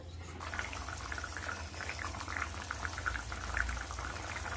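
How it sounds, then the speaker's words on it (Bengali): Fish curry broth boiling in a pan, a steady close bubbling and fizzing simmer that carries on without pause, with no voices. "ঝোল ফুটে গেছে এবার মাছগুলো দিয়ে দেবো"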